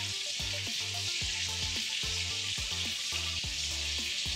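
A burger patty frying on a griddle, a loud continuous hiss of sizzling grease with rhythmic scraping and pressing sounds over it, with no talking.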